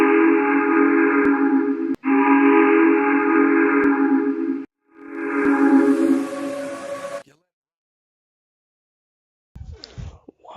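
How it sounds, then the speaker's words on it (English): A loud, steady steam whistle blows in long sustained blasts with brief breaks, then cuts off, followed by a short faint rustle. "Why does that whistle sound familiar?"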